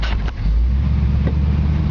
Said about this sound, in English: Touch of the key and she fires right up.